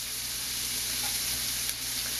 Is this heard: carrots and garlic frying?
yes